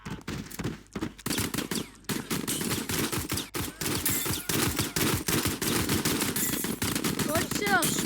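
Rapid automatic gunfire from the video game Hyperbox rattles almost continuously, loud and close, with short pauses early on.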